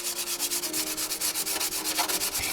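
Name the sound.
sanding motorcycle fairing with sanding block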